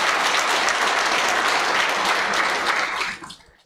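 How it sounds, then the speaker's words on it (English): Loud, sustained clapping from a health seminar audience at a university that tapers off near the end. "Here's another round of applause,"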